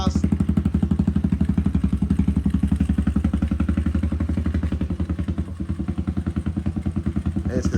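A Kawasaki KLX110 pit bike engine runs steadily through its exhaust, a close, loud, even throbbing putter for the whole stretch with a brief dip near the end.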